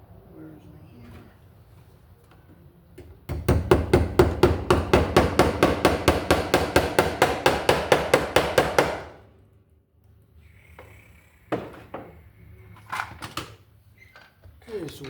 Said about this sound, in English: Where's the hammer?